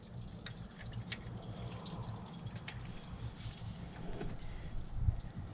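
Antifreeze trickling and dripping out of the thermostat housing on a 3.5 Toyota Highlander during a thermostat replacement, faint splashing and pattering with a few sharp drips.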